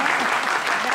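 An audience claps steadily at an Urdu poetry gathering in California, a dense, even wash of applause welcoming guests to the stage and holding at full volume throughout.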